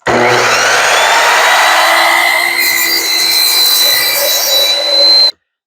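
A WEN 10-inch sliding miter saw, model MM1014, cuts through wood: a loud, continuous high whine and cutting roar lasting about five seconds before stopping abruptly.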